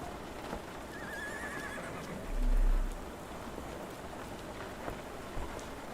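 A horse in a Sherlock Holmes: The Awakened street scene gives a single short whinny at mid-distance, over a steady wash of rain and a faint clatter of hooves.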